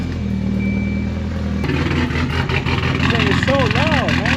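Volvo 240 fitted with a big turbo runs loudly, a heavy low rumbling drone throughout with a shifting higher whine over it, while someone talks over the engine noise.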